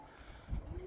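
Young roller pigeons give a soft, brief, low coo close by against quiet background noise, lasting under a second.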